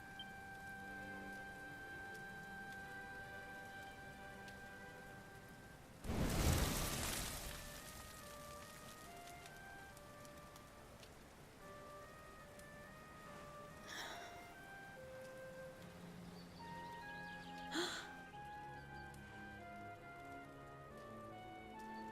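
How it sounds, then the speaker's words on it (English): Steady rain falls in a Dragon Quest XI scene, a soft, even patter running the whole time under faint music tones, with one louder burst of noise early on and smaller ones later. "Looks like the rain's dying down."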